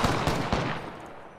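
A short burst of gunfire in Apex Legends: several rapid, loud weapon shots in quick succession, fading out within about a second.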